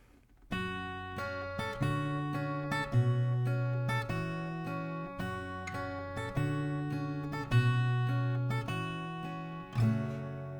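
A plucked acoustic guitar chord pattern at a moderate, even pace, notes overlapping and ringing, played close with no speech.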